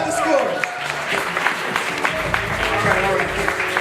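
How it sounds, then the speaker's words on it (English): An audience at a poetry slam applauds the poet, with continuous clapping and crowd noise at moderate volume while a voice speaks over it. "Applaud the poet,"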